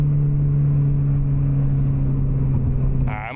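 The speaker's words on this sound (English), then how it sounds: "Just rev through the gears." A car engine drones at a steady, strong low hum under the cabin, holding its pitch for about three seconds before dropping off as a voice begins at the end.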